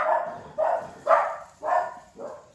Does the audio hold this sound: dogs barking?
yes